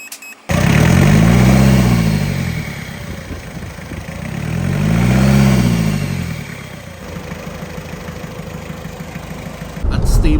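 A Mitsubishi 4D56 diesel engine, recently broken in, revs up loudly twice from idle, each rise swelling and falling back to a steady rough idle before cutting off near the end.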